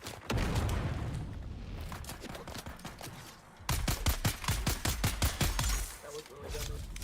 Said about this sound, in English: Oh shit, that's a grenade!